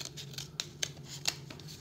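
Scissors snip through a folded paper tube, a run of soft rhythmic cuts with a few sharper crisp snips, close and quiet with no voices.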